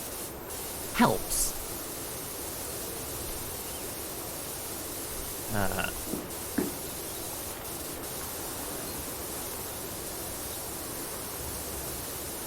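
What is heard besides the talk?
pressure washer spray in PowerWash Simulator video game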